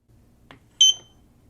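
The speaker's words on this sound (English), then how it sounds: "The light came on and we heard a beep." Eufy 2C security camera giving a single short, clear electronic sync beep after a faint click, alone in a quiet room.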